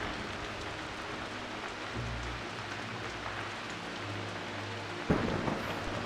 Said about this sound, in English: It's raining inside.